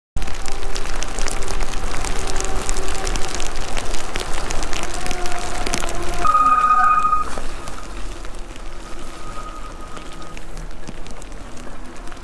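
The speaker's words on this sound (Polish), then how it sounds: "teraz już w ogóle leje" Heavy rain pours steadily in a dense, close hiss throughout a night delivery in Kraków, with a faint electronic tone and muffled street background partway through.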